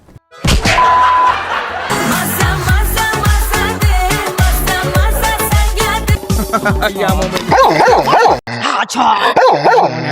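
Dogs bark and yip repeatedly alongside loud music and voices, the barks sharp and close amid a busy, noisy scene.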